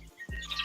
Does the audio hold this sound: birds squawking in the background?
yes